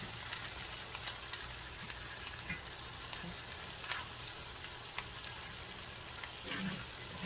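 A porterhouse steak fries in butter in a skillet with a steady, crackling sizzle, close and moderately quiet, scattered with small sharp pops and spits.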